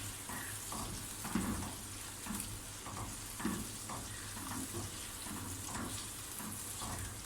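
Chicken for chicken rara frying on high heat in a pan, a continuous soft sizzle with faint stirring scrapes and light clatter, steady and fairly quiet throughout.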